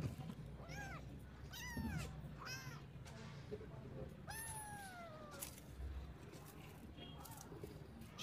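A kitten meows several times in a row, its rising and falling cries standing out over low background noise and some faint talking, with a longer, louder meow in the middle.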